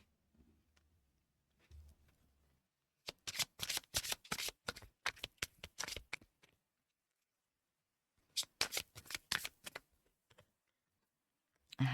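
Oracle cards are shuffled in two quick bursts of crisp riffling flutters, close and fairly quiet, with faint low sounds before them and no voices.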